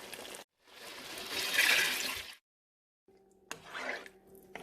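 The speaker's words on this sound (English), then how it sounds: "so I'm just gonna add the water now" Water is poured into a pot of rice for green Mexican rice, giving a close, splashing trickle in two bursts separated by a short silence, the second over a faint steady hum.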